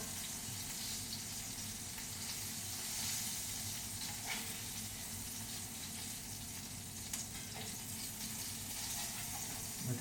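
Pan fish frying in hot grease in a small pan, a continuous crackling sizzle with occasional louder spits and pops, steady and close throughout.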